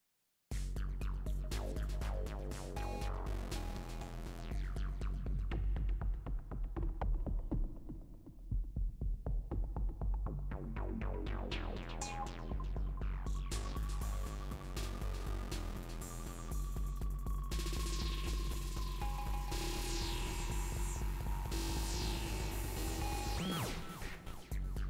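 Elektron Digitakt loop with bit crushing while tune and amp decay are modulated, a dense, gritty rhythmic pattern with pitch sweeps and a low throbbing bed, steady and loud throughout with no voice.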